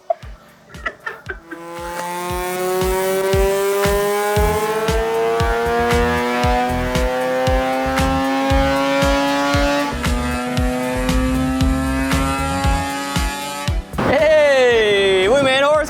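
Naturally aspirated rotary engine in a Mazda RX8 revving on a dyno, a loud, sustained rising wail that climbs steadily for about twelve seconds before cutting off, followed by another sharp rev.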